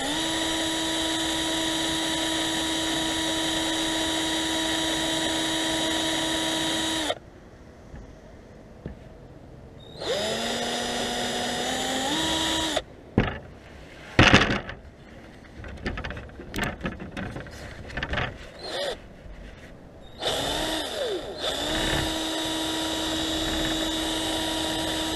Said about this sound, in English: So again, let's get back to drilling.